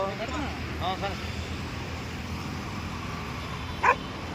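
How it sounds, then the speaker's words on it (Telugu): Several dogs bark and yip at a street feeding for about fifty dogs in Hyderabad, short barks early on and a sharp yelp near the end, mixed with people talking and calling out. "ఇది ఇన్నున్నాయి కుక్కలు"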